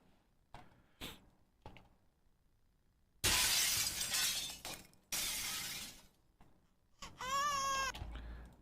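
Glass shatters as a sound effect placed in a Cubase music production session, with several loud crashing bursts of breaking glass among quieter ticks and a final bright ringing shatter, heard alone without talk.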